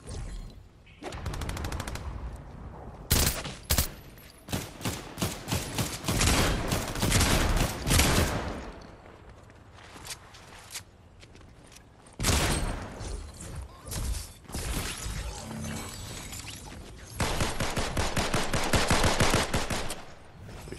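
Bursts of rapid automatic gunfire in an Unreal Engine 5 video game while shooting a llama, loud, close and repeated, in clusters separated by short lulls over about twenty seconds.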